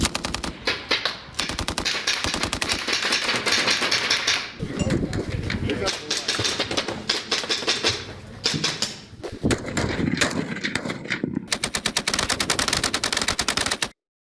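Machine gun fire rattles at a joint India-US military exercise on the Mahajan field firing range in Rajasthan, with long loud bursts of rapid shots, brief pauses between them, and other firing mixed in.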